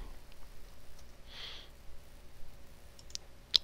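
A single soft computer mouse click lands near the end, close and quiet, during Revit structural modelling work, with faint room hiss otherwise.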